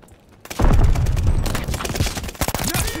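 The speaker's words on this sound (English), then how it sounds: "5 feet away from me shooting an STG-44." Rapid automatic fire from an STG-44 in the video game Call of Duty: Vanguard, a loud close burst of gunshots alongside other battlefield shots, sustained chatter of rounds through most of the clip.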